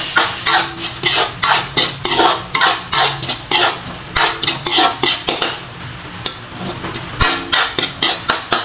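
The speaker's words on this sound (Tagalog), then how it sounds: "Para lumasa na sa ating sauce. Halo-halo" A spoon scraping and knocking against a pan while pork adobo sauce with pork tidbits is mixed, a loud, rhythmic clatter of repeated strokes under a light sizzle, close up.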